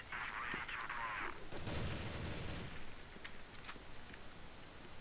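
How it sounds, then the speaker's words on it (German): Crossfire video game gunfire crackles and booms, a burst of shots followed by a rumbling blast, then scattered fainter pops. "Ich höre nur Schüsse. Wo kommen die her?"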